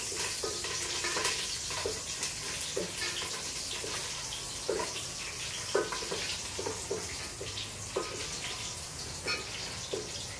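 Curry leaves frying in oil give a continuous close sizzle, with repeated scraping stirs of a spoon against the pan at an irregular, unhurried pace.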